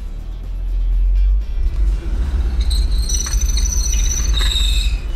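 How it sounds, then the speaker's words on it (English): An INEOS Grenadier accelerates on test rollers with only the right rear wheel on the ground. A loud low engine rumble builds as the rollers spin, then high-pitched squeals rise during traction control intervention. "gentle throttle application, got some traction control intervention, and we actually pulled off fairly quickly"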